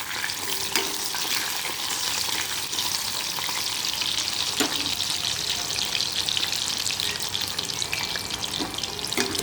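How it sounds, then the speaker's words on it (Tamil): Raw plantain slices deep frying in hot oil for a wedding-style valakkai varuval, a dense, steady sizzle and crackle running close and loud throughout, with occasional stirring. "இப்போ எண்ணெயில் பொரித்து எடுத்துடலாம்"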